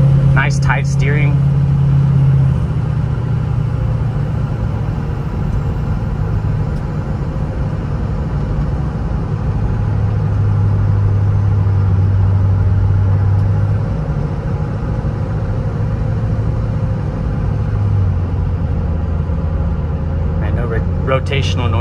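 A 2006 Ford F-250 Lariat 4WD pickup with a 6.0L Powerstroke diesel drives along, its engine a steady low drone with shifting tonal bands as it changes gear, continuous and fairly loud throughout.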